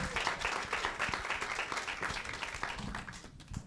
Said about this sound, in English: Just a round of applause, screams, cheers